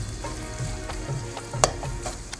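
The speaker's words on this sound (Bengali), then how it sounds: "ভালো করে টমেটমগুলোকে গেলে দেবো খুন্তি করে" Tomatoes sizzle in a hot pan while a spatula stirs them, giving steady frying crackle with a few sharp scraping clicks against the pan, close and without voices.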